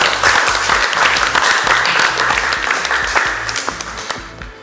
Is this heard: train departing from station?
no